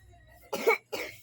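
A young boy coughs twice in quick succession, close and clear, against an otherwise quiet background.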